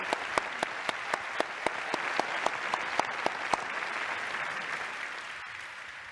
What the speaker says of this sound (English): I think that you deserve a big round of applause